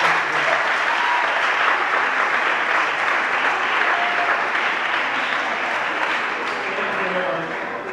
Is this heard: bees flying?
no